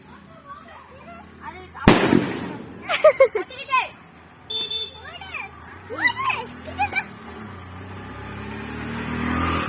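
A sharp Diwali firecracker bang goes off nearby, followed by excited children shouting and chattering, with a whistling crackle and a car passing in the background.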